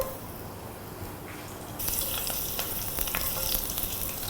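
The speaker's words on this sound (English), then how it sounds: "Oil into the pan, pandan leaves and curry leaves" Pandan and curry leaves hit hot oil in a pan partway through, setting off a loud, steady crackling sizzle that carries on to the end, with no talking.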